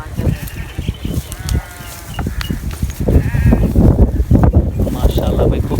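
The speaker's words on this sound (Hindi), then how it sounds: "वो वाली बकरियाँ दिखाओ।" Goats bleating at a livestock market, several overlapping calls near and far over a noisy crowd, with people talking throughout.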